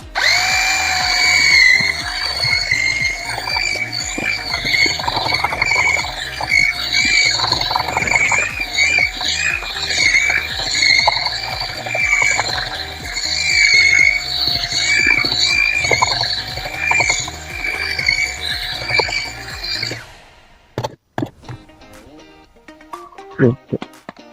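A power drill fitted with a mixer paddle churns Zigma mortar plaster, a loud continuous whirring drone with gritty scraping that runs steadily for about twenty seconds, then cuts off, leaving a few scattered knocks and handling sounds.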